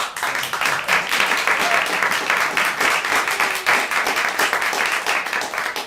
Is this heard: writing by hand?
no